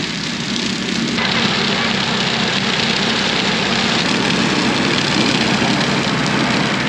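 A deep, steady engine idles close by, a continuous low throbbing rumble that holds even throughout.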